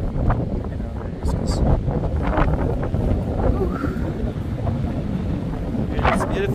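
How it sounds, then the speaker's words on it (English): Wind gusts buffet the microphone beside Patricia Lake in Jasper, a rough continuous rumble with water and boat noise beneath, while people talk over it. "Yeah, it's windy."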